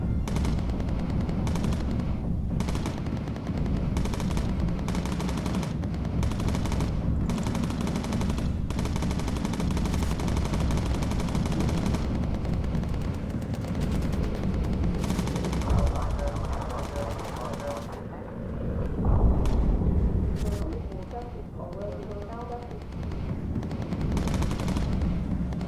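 Sustained .50 caliber machine gun fire in the bomber video game Bomber Crew, dense and loud rapid bursts running almost without a break, easing briefly in the final stretch before resuming.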